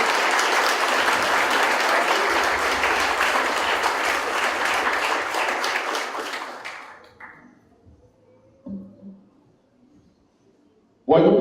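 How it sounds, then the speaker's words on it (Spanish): Loud, sustained audience applause in a lecture hall greets architect Fernando González Gortázar, clapping dense for about six seconds before thinning out and fading, followed by a few isolated taps and a brief burst at the end. "Les pido un aplauso, es un día muy especial para recibir a Fernando."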